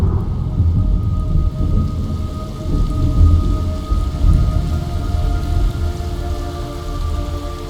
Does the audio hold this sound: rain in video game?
yes